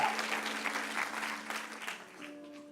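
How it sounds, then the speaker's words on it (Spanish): Church congregation applauds during a Sunday service, a fairly quiet, continuous patter of many hands that fades slightly toward the end, with a faint sustained organ-like tone beneath. "Yo quiero invitarle a que le demos un aplauso a la palabra de Dios en esta mañana."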